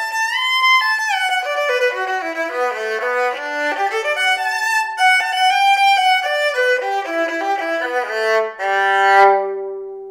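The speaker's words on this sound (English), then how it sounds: "This is called the Stroh Violin." A Stroh violin, the horn-amplified violin, plays a continuous melodic passage alone, its bright, nasal bowed tone moving through quick changing notes and ending on a sustained lower note.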